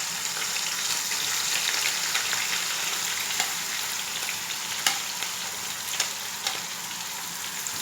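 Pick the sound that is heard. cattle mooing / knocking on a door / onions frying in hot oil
onions frying in hot oil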